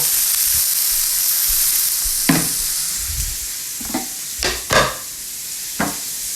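Beef browning in a pan for a slow cooker stew, a loud steady sizzle with a few scraping stirs and clanks near the end, heard close and alone.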